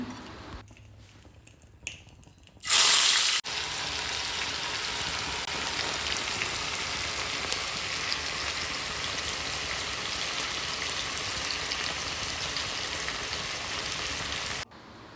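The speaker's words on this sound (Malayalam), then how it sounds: "ഇനി നമ്മൾ മസാല പിടിക്കാൻ വേണ്ടി മാറ്റി വെച്ച ചിക്കൻ നമുക്ക് കുറച്ചായിട്ട് ഈ എണ്ണയിലേക്ക് നമുക്ക് ഇട്ട് കൊടുക്കണം" Marinated chicken pieces dropped into hot oil in a pan: a sudden loud splash of sizzling, then a steady close hiss and crackle of frying that continues evenly to the end.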